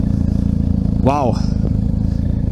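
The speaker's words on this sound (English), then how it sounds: "I am on the R1250 GS Adventure" A BMW R1250 GS Adventure, the heavy version with the big tank, drones steadily on a test ride, its engine loud and close, with a brief vocal sound breaking through midway.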